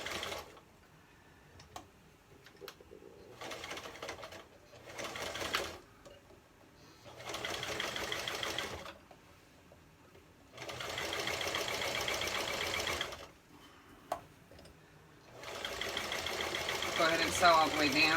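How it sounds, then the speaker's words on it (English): A sewing machine stitches a strap onto a homemade nylon mask in several separate bursts, each a few seconds long. Quiet pauses fall between the runs, and faint handling noises fill the gaps. "So let's go ahead and sew it."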